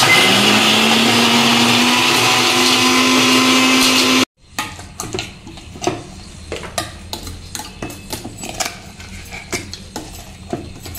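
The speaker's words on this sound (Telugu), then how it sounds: "మిక్సీ పట్టాలి ఇప్పుడు అది." A new mixer grinder runs at full speed on spice paste for a kurma of stuffed brinjals, making a loud, continuous whirring drone that stops abruptly. Afterward come scattered clinks and taps of the jar and utensils.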